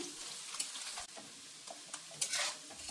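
Onions and carrots sizzle in a pan with eggs for street-style egg noodles, a steady close frying hiss broken by a few stirring scrapes and clinks.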